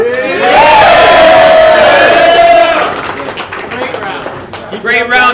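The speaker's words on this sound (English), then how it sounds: "make some noise right now for Rob" A crowd at a rap battle event roars and cheers loudly in a sustained swell. A shouting voice rises over the noise before it fades to scattered claps and murmurs.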